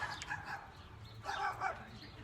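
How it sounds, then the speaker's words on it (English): Dogs fight and bark somewhere off in the distance, with a few faint, brief yelps and snarling barks in two short bursts over quiet outdoor ambience. "we got some dogs fighting over there."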